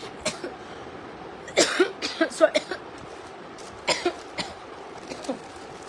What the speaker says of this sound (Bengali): হঠাৎ করে কাশি চলে আসলো কেন?